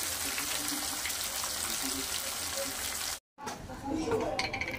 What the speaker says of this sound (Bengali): বরলি মাছটাকে এখন কড়া করে ভাজবো।